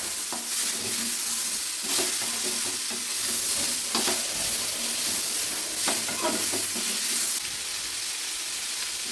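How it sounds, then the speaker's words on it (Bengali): Boiled ghetkol stalks sizzle and fry in a pan with potatoes for a curry, a steady hiss broken by the scrape of periodic stirring, close and without speech. "এই ঘ্যাটকলটা দেওয়ার পরে একটু 2 মিনিট বেশ ভাজা ভাজা করে নিলাম"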